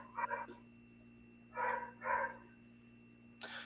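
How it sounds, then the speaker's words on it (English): A dog barks excitedly at the Sutro Baths ruins in San Francisco, a few short bursts of yips and barks, somewhat distant and fairly faint over a low steady hum. "dog's going nuts"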